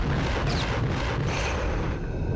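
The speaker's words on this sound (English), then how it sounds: "How about an explosion?" A video game explosion rumbles in a dense, loud roar of booming, crackling noise that fills the whole moment, sustained rather than a single sharp bang, with no talk over it.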